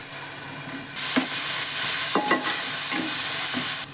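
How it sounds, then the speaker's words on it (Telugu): Slit green chillies fry in a pan for fish curry, a loud close sizzle that swells suddenly and holds, broken by several scraping stirs of a spoon against the pan bottom. "ఇప్పుడు మొత్తం ఫ్రై చేయాలండి. అడుగంటకుండా కలుపుతూ ఫ్రై చేసుకోవాలి."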